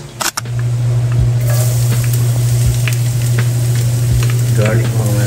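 Garlic sizzles in hot frying oil in a pan, a loud steady crackling hiss with occasional stirring clatters, close and continuous after a brief initial clink.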